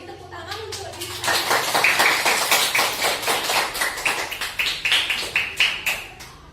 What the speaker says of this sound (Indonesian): Oke, jadi tepuk tangan untuk Dita